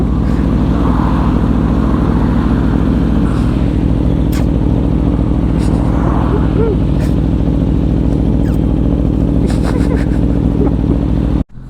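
Loud, continuous rumble of an Aprilia RSV4 superbike engine cruising up close, steady throughout with slight shifts in pitch.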